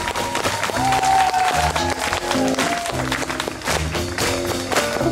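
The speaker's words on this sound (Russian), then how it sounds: "Аплодируйте, чтобы нас там услышали." A festival audience at the Koktebel Jam claps and cheers steadily and loudly on request, layered over live music from the stage.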